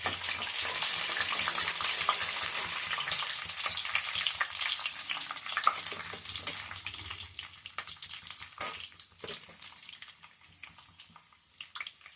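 Tempering seeds and chana dal crackle and fry in hot oil for a green-chilli cauliflower curry. The sizzle starts loud and busy, with scattered pops and stirring, then slowly thins and fades.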